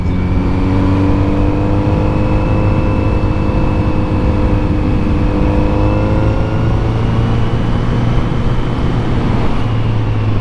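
A Kawasaki Z900RS motorcycle cruises a winding Virginia back road, its engine droning at a steady, loud pitch with a slight rise and fall in revs and constant wind rush.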